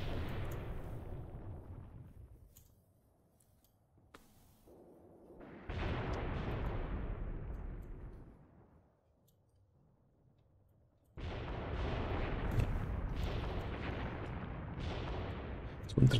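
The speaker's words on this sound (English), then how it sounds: "the artillery fire" Artillery fire in the Graviteam Tactics war game, deep rumbling booms swelling and fading in long waves, with a heavy sustained barrage rolling in loudly toward the end.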